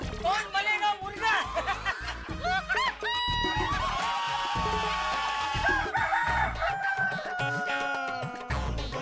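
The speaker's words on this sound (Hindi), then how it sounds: "अरे बाप रे, जिधर देखो उधर मुर्गा मुर्गा मुर्गा ही है।" Rooster crows and clucks ring out repeatedly in a TV sitcom comedy scene, fairly loud and close, mixed with people talking.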